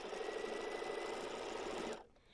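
A sewing machine runs in one steady, fast, close whirring burst while stitching a quilted retro car pillow, then stops abruptly.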